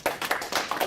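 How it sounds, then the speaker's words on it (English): Audience applause at an African American education empowerment program event, a brief patch of scattered hand claps at moderate distance. "let's all welcome them and give them a round of applause"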